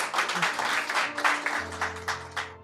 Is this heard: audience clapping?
yes